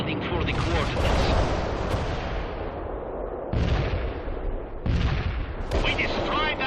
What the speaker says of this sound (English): Ariel is inbound with cluster ordnance. Stay clear.